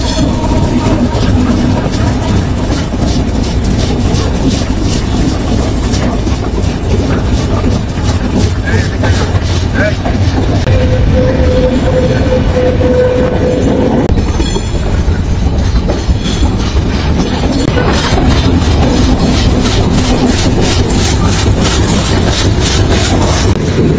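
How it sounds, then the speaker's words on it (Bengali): The Sundarban Express passenger train runs on rails through a big curve after leaving Kamalapur railway station, a loud, continuous rumble with steady clickety-clack wheel rhythm and brief wheel squeal, with some talk faintly mixed in. "কমলাপুর রেলওয়ে স্টেশন পেরিয়ে সুন্দরবন এক্সপ্রেস ট্রেনটি বিশাল একটি বাঁক নিয়েছে।"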